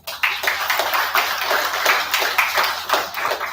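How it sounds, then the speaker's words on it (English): Audience at an inauguration event in Bhubaneswar applauding the guests: a moderate spread of individual claps with some sharp hand strikes standing out, sustained for a few seconds with no voices. "Let's extend our sincere appreciation to our esteemed guests for their words of wisdom and invaluable contribution to the community with a huge round of applause"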